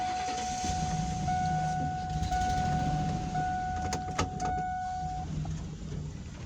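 A Ford E150 engine idles with its exhaust manifold leak patched with glue, a steady low rumble under a sustained whining tone, with a few sharp ticks and clicks.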